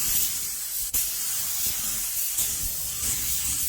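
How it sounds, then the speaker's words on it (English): Clear coat sprayed from about six inches onto carbon fiber parts gives a steady, close, airy hiss that runs the whole time, with one brief sharp click near the start; no voices. "Spray about 6 inches away."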